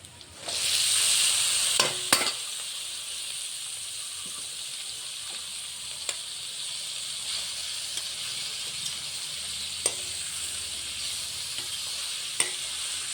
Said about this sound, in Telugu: ఉల్లిపాయ, పచ్చిమిరపకాయ, దీంట్లోనేమో 2 ఎండుమిరపకాయలు, జీలకర్ర, ఆవాలు, పచ్చెనగపప్పు ఇవి వేసాను,